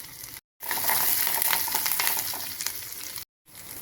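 Steady crackling sizzle of mustard seeds and spices frying in hot oil, dense and close, with two brief silent gaps.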